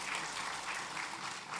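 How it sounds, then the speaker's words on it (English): Conference audience applauding the session speakers at an academic gathering on Islam, science and society, a steady dense wash of clapping held at an even level throughout, with no voices over it. "please give big round of applause to our excellent"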